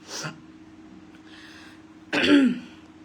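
A brief cough, a pause, then a louder throaty cough close to the mic, with no talking.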